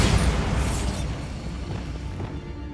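Bombarda spell from Hogwarts Legacy going off as a loud booming blast with a rumbling, crackling tail that slowly fades, with no talking.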